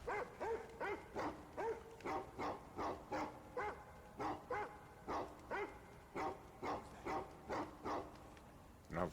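Dog barking from the 2010 Xbox 360 video game Dead to Rights: Retribution, a steady run of about sixteen loud, evenly spaced barks, close and alone with no talk.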